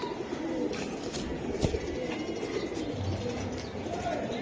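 A male Giribaz racing pigeon coos softly a few times amid a busy, noisy pigeon market, with faint murmuring voices nearby.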